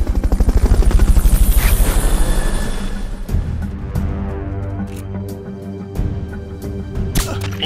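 Rotor thump of the Fulton recovery helicopter in Metal Gear Solid Peace Walker, loud and steady for about three seconds, then fading back under game ambience, sharp clicks and crackles.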